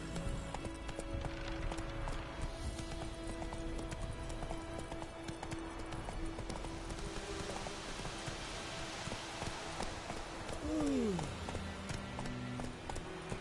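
Roach, Geralt's horse in The Witcher 3, gallops with a steady rhythmic clip-clop of hooves over ambient noise, and a short descending whinny near the end.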